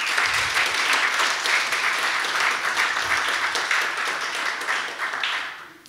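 An audience at a Slovak gymnasium event gives sustained, dense applause for several seconds before it begins to fade at the end.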